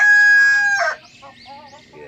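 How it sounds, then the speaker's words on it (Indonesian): A rooster toy crows with a bright, loud sustained call that breaks into a shorter rough tail, followed by fainter clucking notes. "Keluarlah ayam jago"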